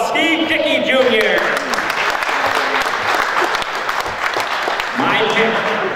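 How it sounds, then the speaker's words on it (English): A crowd claps and cheers loudly at a heavyweight racing event, the applause steady throughout while an announcer talks over it. "Big round of applause, Steve Dickey Jr."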